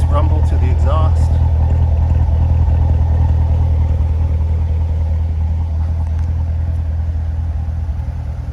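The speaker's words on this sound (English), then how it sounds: "Nice rumble to the exhaust." Low exhaust rumble of a 2015 Chevrolet Corvette Stingray Z51 2LT coupe, steady and deep as it drives along a road, with someone talking over it.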